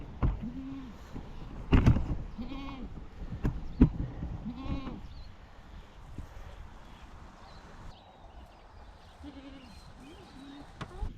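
A goat on a New Zealand homestead paddock, about to give birth, cries and calls in repeated loud, wavering bleats close by, with shorter calls and rustling between them and no talking.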